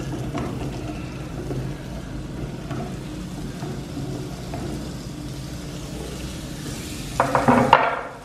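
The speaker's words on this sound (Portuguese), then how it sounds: "Então vou deixar fritando aqui na manteiga até ela ficar transparente, bem fritinha." Onion fries in butter in a pan on a barbecue grill for homemade burgers, giving a steady, close sizzle with a brief clatter of stirring near the end.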